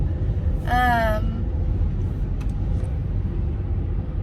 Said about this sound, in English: don't understand why my car's in like a lower gear right now